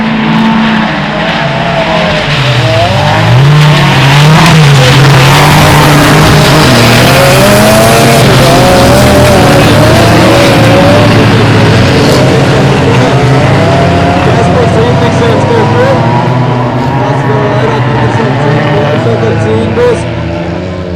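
Race cars roar through the season's final race, engines loud and continuous with shifting pitch and tire squeal over about twenty seconds, while a voice talks over the din.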